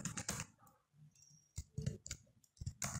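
Code is typed on a computer keyboard in quick irregular bursts of close, crisp key clicks separated by brief pauses.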